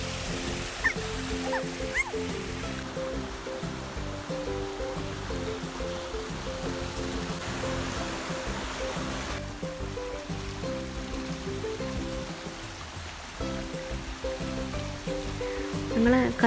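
A small stream runs over rocks in a natural rocky pond area, a steady broadband rush of flowing water that continues throughout, with a faint low hum and occasional voices in the background.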